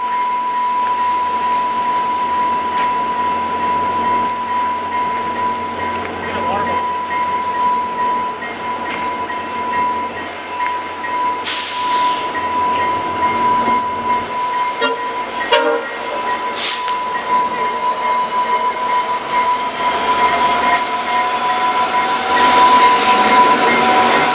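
A train pulls away from a station, a long, steady rail rumble with sustained horn-like tones and a few sharp clanks as the cars roll past nearby.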